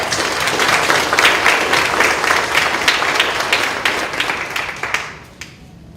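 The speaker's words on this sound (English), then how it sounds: "So please give her a round of applause." Audience applause at a school board meeting, honoring a student art award winner; steady clapping from a modest crowd that thins out and fades near the end.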